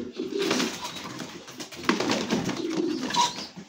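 Racing pigeon chicks coo softly in a repeated, low murmuring pattern, close by and steady, with a brief fluttering rustle in the middle and no talking.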